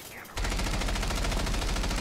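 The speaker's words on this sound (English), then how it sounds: "I shot through the wall." Rapid automatic gunfire from Rainbow Six Siege bursts in loudly after a brief quiet moment and runs as a dense, steady stream of shots fired through a wall.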